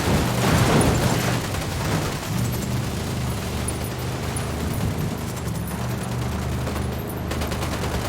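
Dense, continuous firefight in Ghost Recon Wildlands: overlapping gunfire and rumbling blasts, loudest at the start, then a steady roar of distant shooting throughout.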